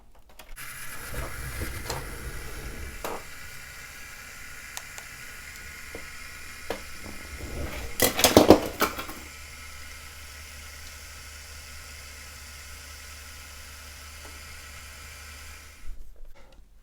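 A quiet hum and hiss comes from an HO model locomotive, a DB 112-504 with a replaced seized motor, running on a rolling road. A short louder clattering burst midway interrupts the faint, steady drone, and there is no talk.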